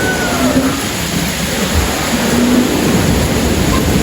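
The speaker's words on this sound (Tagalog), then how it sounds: "medyo bumaba naman ah humina na yung ulan" Rain easing off over a flooded poultry farm, a steady soft hiss of falling water with low rumbling underneath, continuous and even throughout.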